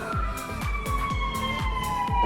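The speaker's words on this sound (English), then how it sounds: "That's LA for you. I know you hear those sirens." Emergency vehicle sirens wail across Los Angeles, a fairly loud, continuous siren tone with rapid repeating sweeps, heard without any talking.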